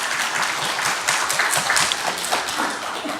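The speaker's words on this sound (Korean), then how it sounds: "그래 박수" Church congregation at a Sunday service claps for a deaconess who sang a solo, a continuous, fairly loud burst of many hands throughout.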